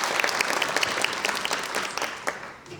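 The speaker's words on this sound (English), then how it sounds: "So round of applause for Don." At a Go Laurel Highlands event with the Pennsylvania Historic and Museums Commission, a small audience gives brief, steady clapping, distinct individual claps close by, fading slightly at the end.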